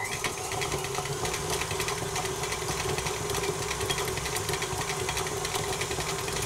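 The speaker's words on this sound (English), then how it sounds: "I'm going to whisk this up in the mixer for sort of 3 to 4 minutes on quite a high speed" A stand mixer runs continuously at high speed whisking unsalted butter, a steady close motor whir and rattle of the whisk in the bowl with no talking.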